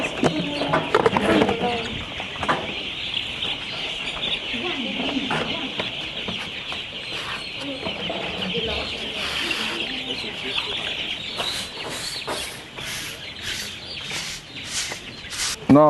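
Chickens cluck and call in a crowded poultry shed, a steady dense chorus of birds with occasional louder squawks, while people talk intermittently over the flock.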